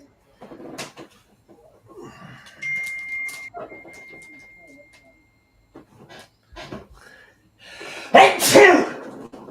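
A sneeze bursts out loud near the end, following quieter household clatter and brief bits of voice earlier on.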